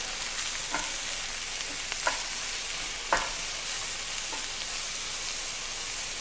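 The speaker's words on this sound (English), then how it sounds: "So let your veggies saute for a couple minutes here until they begin to cook down just slightly." Vegetables sautéing in a pan over low heat, a steady close sizzle with a few soft scrapes and taps of stirring on top, no talk.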